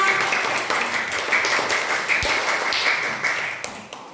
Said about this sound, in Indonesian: Tepuk tangan dulu untuk kelompok mereka